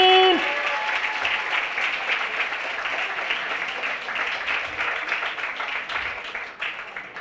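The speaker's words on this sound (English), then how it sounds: "Let's give another round of applause for this dope queen." An awards-ceremony crowd at the VOWOC 2018 Trailblazers event applauds for an honoree, a full, sustained burst of clapping that opens with a brief tone and slowly thins toward the end.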